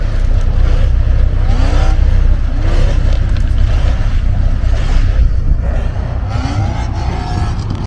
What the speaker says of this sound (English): down there they're doing another rev off, it seems